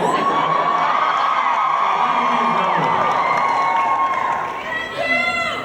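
A big Comic-Con panel audience for The Vampire Diaries cheers and whoops, a loud sustained roar of many voices filling the hall, with talk rising through it.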